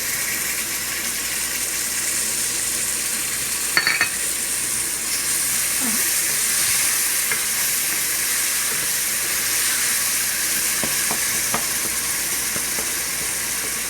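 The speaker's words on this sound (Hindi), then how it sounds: "हम इसको अच्छी तरीके से भून लेंगे।" A tomato, yogurt and spice masala for besan ultay pultay fries in a pan, giving a steady, even hiss and sizzle throughout with a couple of faint stirring knocks.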